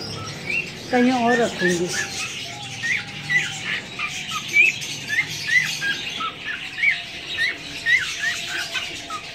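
A breeding pair of pet cage birds squawk and chirp sharply and repeatedly while the pair is moved. Someone speaks briefly over the calls.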